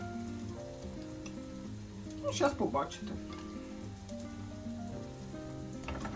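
Batter-coated meat fries in a pan of oil with a soft, even bubbling sizzle that runs throughout. Someone speaks over it, and a brief louder spatter breaks in partway through.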